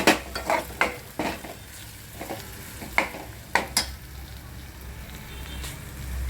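Masala roasting in oil for a chicken liver masala, with a soft sizzle under repeated sharp spoon scrapes and taps against the pan in an uneven rhythm, close by and without talk.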